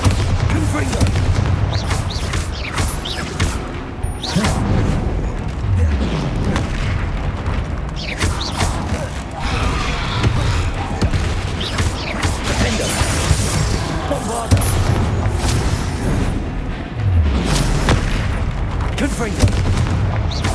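Repeated Confringo fire-spell blasts and booming impacts from Hogwarts Legacy combat, loud and dense over continuous game music and effects, with several heavy bursts spread across the stretch.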